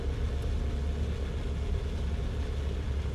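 A World War II tank engine in the Sprocket video game rumbles steadily with a deep, even drone, running at constant load without pauses.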